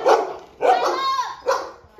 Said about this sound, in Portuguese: Ó o moleque mexeu com os cachorros.